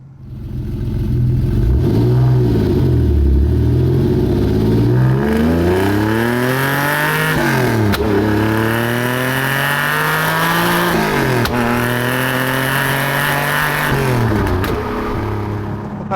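TVR Sagaris sports car engine revving loudly and close, with repeated rising and falling sweeps of throttle that hold at high pitch between shifts, over about sixteen seconds with no talk.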